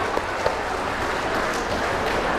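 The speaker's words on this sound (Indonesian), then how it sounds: "Tepuk tangan." Applause from the gathering at a Batak clan family association's New Year celebration, marking the dissolution of the old committee: a steady, dense patter of clapping with no voices over it.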